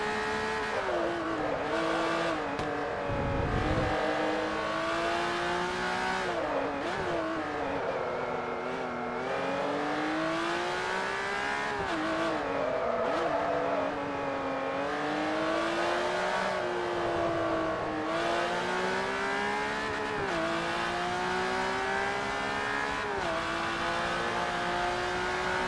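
A race car engine on track in the video game Forza Motorsport 3 drones steadily, its pitch climbing through the gears and dropping on shifts, with brief tyre squeal. The sound is continuous and moderately loud, with no talk.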